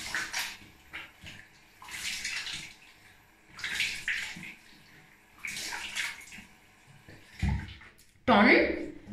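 Tap water runs and splashes at a bathroom sink while a face is rinsed, in uneven close bursts with someone talking over it, ending in a louder stream.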